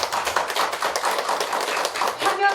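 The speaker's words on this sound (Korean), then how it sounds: "힘찬 박수 부탁드립니다." An audience applauding at an indoor event, steady close clapping with many overlapping hand claps that swell near the end.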